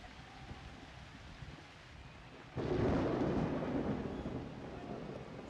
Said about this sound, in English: Oh, I heard the lightning